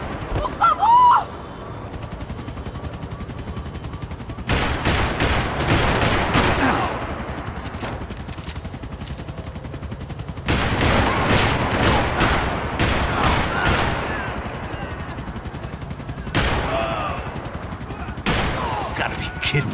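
Bursts of gunfire from the video game Max Payne, with rapid machine-gun volleys and fusillades coming in several loud clusters separated by short pauses, with shouted game dialogue in between.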